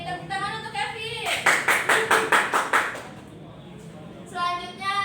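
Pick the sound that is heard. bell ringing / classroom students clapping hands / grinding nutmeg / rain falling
classroom students clapping hands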